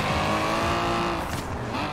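A four-rotor race car engine in the video game Forza Horizon 4 wails with a loud, buzzing rotary tone that rises and falls, briefly swelling as it passes close by.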